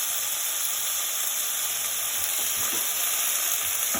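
Lentils sizzling as they drop into hot turmeric-flavored oil for a lentil and tomato daal, a steady close frying hiss with no talking.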